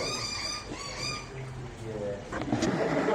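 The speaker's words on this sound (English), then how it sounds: "Now watch the other birds attacking." Birds squabble and attack each other outdoors in Australia, with overlapping harsh honking and squawking calls at close range, steady and fairly loud throughout.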